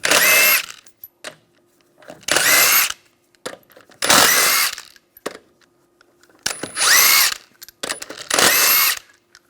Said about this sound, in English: Take the wheel off using a 21mm socket.